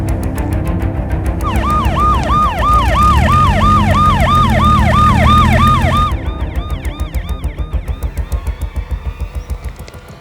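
An ambulance siren wails loud and close in a steady rising-falling cycle over traffic, then cuts to a faster yelping pulse as it fades slightly.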